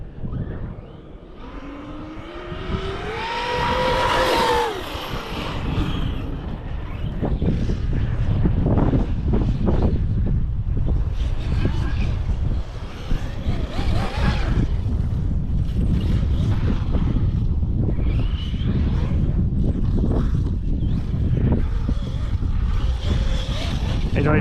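RC model running on LiPo battery packs, heard as a continuous motorized whine and rushing noise with wind buffeting, steady and fairly loud throughout, with a brief rising pitch sweep early on and some talk underneath.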